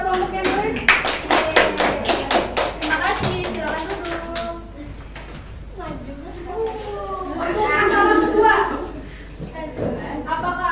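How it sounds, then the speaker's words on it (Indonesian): A classroom of students claps for a student group during a microteaching lesson, a few seconds of scattered hand claps and taps, followed by a teacher and students talking. "tepuk tangan dulu buat kelompoknya Nuris"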